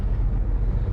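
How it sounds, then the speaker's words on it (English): Strong wind gusting across a ship's helicopter deck on an Arctic expedition, a loud low rumbling buffet against the microphone, continuous and close with no voices. "The wind's gusting to about 13 meters a second"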